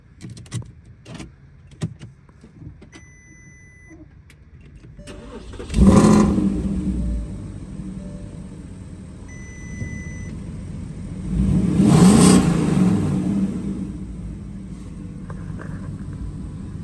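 A car engine with a new exhaust fires up and revs hard twice, a deep throaty roar swelling and settling back to a rumbling idle between.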